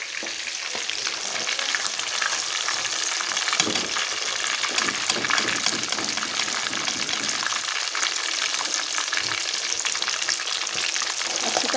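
Chicken pieces fry in hot ghee with a loud, steady sizzle that fills the whole stretch, plus a few brief scraping stirs partway through; no one speaks.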